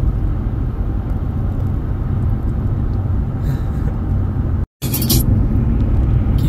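A car driving along a road heard from inside the cabin, a steady low engine and road rumble throughout with a brief dropout near the end, followed by a short crackle.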